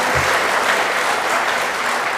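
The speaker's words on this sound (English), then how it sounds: "Can we give her a nice round of applause, Fiona?" Conference audience claps warmly for a keynote guest, a full, continuous round of applause from a large room that holds steady throughout.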